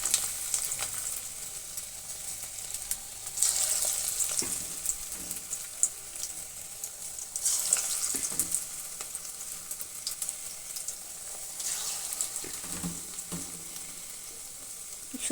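Shrimp fritters coated with egg, coriander, onion and garlic frying in hot oil, a soft continuous sizzle with occasional louder crackles and stirring clinks, heard alone without speech.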